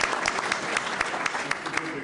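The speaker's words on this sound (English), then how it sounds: "we'll give her a round of applause." A studio audience gives a round of applause at a televised public-affairs program, with dense, steady clapping throughout and louder bursts every quarter second or so, while a voice talks over it.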